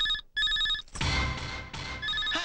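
A telephone rings in a Telugu comedy film scene, with repeated electronic ring pulses at the start and end and a louder, noisy burst of sound in between.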